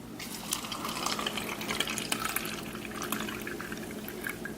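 Strong Kangen water pours and splashes over produce being washed, a close, continuous liquid gush with irregular dripping and spattering throughout, and no talking.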